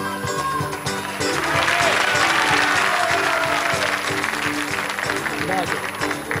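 Studio audience applause from the Italian TV talent show La Corrida in 1993 swells and holds as a loud, dense clapping wash, with music and voices mixed underneath.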